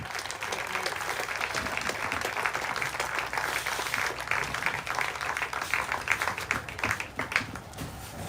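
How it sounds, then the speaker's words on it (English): A crowd at a high school softball game applauds the seniors with steady, dense clapping that runs throughout, moderately loud and fairly close, with faint crowd noise mixed in. "Let's give our seniors one last round of applause"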